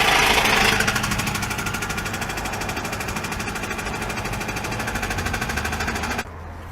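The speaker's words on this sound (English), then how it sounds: "Customer states that there's a loud noise coming from the engine." A loud, harsh car engine with a customer-reported noise fault, running as a dense, rapid rattling knock that holds steady for about six seconds before dropping off abruptly near the end.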